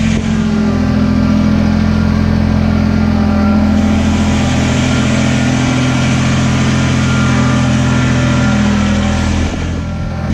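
Vehicle fitted with an LED light bar on its rollover protection frame pulling away, a loud steady engine drone with a deep low hum that holds throughout and eases off near the end.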